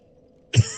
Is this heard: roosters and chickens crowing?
no